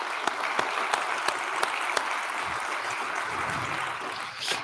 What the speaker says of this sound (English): Let's give a round of applause to all of our speakers and all our presenters today